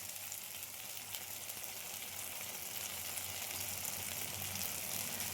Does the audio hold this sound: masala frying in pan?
yes